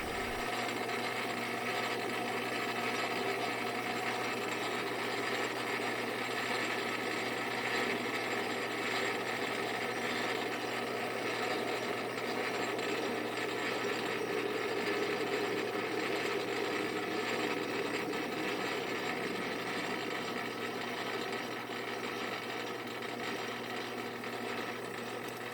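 Lathe facing the ends of tool steel stock, a steady continuous machining whir with a faint ticking, mechanical texture held at an even level throughout, no voices.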